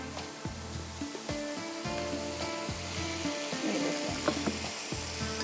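Meat and black-eyed beans frying in a pot for lobia gosht, a steady sizzle broken by repeated clacking scrapes of a spoon against the pot, close and moderately loud.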